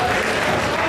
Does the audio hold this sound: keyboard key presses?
no